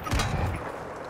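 Grenade launcher fire in Warzone 2 on Ashika Island, a burst of low explosive booms in the opening half second that then settles into a rumbling, gunfire-like roar.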